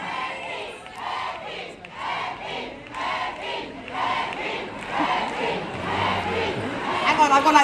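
A crowd chanting in rhythmic, repeated shouted phrases, loud and close, with pulsing bursts about once a second, mixed with chatter and rising toward the end.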